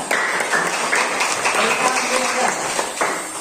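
Classroom students clap for a classmate's answer, a ragged burst of close hand claps that comes and goes over a few seconds, mixed with voices and room noise.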